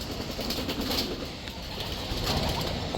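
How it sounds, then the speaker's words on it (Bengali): Racing pigeons arrive outdoors with bursts of wing flapping against a broad, noisy open-air background, fairly close, no speech. "কবুতর আসছে, আরও 2টা কবুতর আসছে।"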